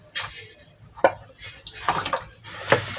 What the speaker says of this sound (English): Then you stir it very well.